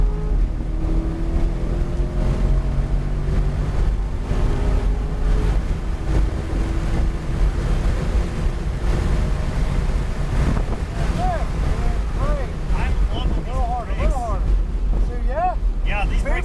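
Chevrolet Corvette C8 Z51 on the International Speedway circuit in Palm Beach, Florida, its engine droning steadily under heavy wind rush and road roar, with pitch sweeps rising and falling as the car accelerates and eases off.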